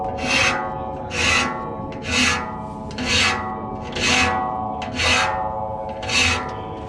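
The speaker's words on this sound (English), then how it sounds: "You do a nice job of filing them." A hand file rasps across the teeth of a 48-inch sawmill blade in steady strokes, seven rhythmic scrapes about a second apart, loud and close with no talking.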